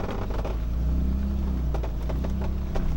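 BMW E30 turbo on a test drive, engine rumbling steadily from inside the cabin with a deep continuous drone and light road noise throughout.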